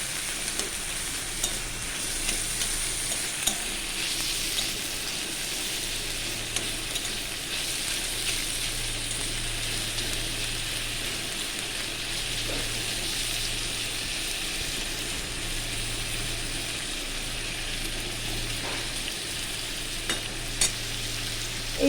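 About 100 grams of shrimp fry and get stirred in spice paste for a Bengali jackfruit-seed chorchori, giving a steady, close sizzle with scraping stirs and occasional clinks throughout, with no talking.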